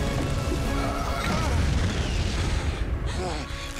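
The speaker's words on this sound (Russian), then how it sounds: "Какой эпичный-то взрыв" A loud, rolling explosion from the LEGO Jurassic World video game booms and crashes for several seconds, then tapers off near the end.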